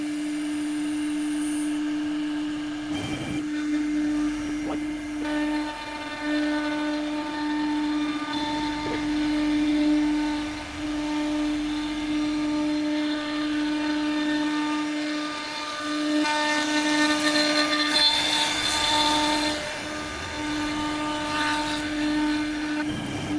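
An Onefinity CNC router cutting a spoil board: a steady machine whine with a strong tonal hum runs throughout, growing harsher and louder partway through as the cutter bites into material.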